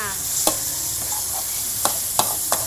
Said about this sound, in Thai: ใส่หนังลงไปผัด